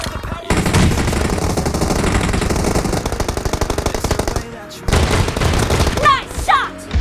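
Rapid automatic gunfire from a shooter game pours out in long, loud sustained bursts with a brief pause, over music and game sounds.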